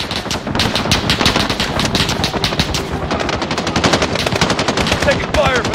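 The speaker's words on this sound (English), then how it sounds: "Taking fire from the residence." Sustained machine gun fire in Call of Duty Modern Warfare, loud dense rapid bursts rattling continuously throughout with faint game voices beneath.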